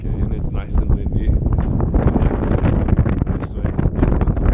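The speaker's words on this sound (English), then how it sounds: "it's nice and windy" Strong wind buffets the microphone outdoors at a model airplane flying field, a loud continuous rumble with gusty surges throughout, with a person speaking under it.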